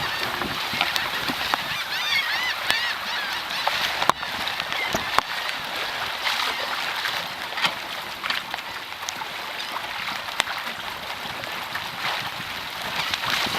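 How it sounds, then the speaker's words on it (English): A flock of geese honks repeatedly in scattered bursts, close and fairly clear, over the hiss of rain and water around a small Beaufort Melonseed sailboat out on the water. "A lot of birds."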